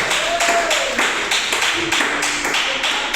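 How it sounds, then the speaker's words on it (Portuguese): A church congregation claps along during a worship service, a steady, dense patter of many hands under a singing or speaking voice throughout. "Pode aplaudir o Senhor com as palmas bem alegres"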